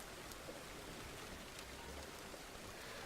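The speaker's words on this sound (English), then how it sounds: "we probably gotta wait until like 6:30 in the morning for it to stop raining" Steady rain falls on the farm in the Farmer's Dynasty video game, a soft, even hiss that continues without a break and stays quiet and distant throughout.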